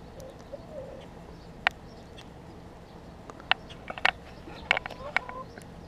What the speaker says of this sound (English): That gray bird's kind of freaking out.